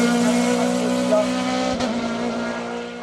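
Norma M20 FC 2-litre Group CN prototype race car at the Vuillafans–Echevannes hill climb, a high, sustained engine note that holds steady and then gives a brief sharp burst near the middle, close and loud.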